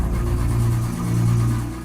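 A car engine stalls and fails to start, giving off a loud, steady low mechanical drone that holds close and unbroken for under two seconds, with no voices.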